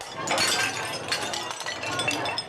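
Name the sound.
smashing crockery in a restaurant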